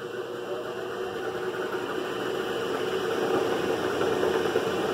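A grinder runs steadily during a Grinder Minder test, a continuous mid-pitched whine with a vibrating hum that grows slightly louder toward the end.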